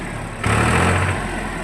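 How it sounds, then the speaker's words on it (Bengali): A power tiller's diesel engine runs steadily nearby, its low droning idle swelling slightly louder partway through, with no voices. "ইঞ্জিনের সাউন্ডটা এখনো মানে আপনার যে অরিজিনাল ইঞ্জিনের সাউন্ড সেটাই কিন্তু আছে এখনো"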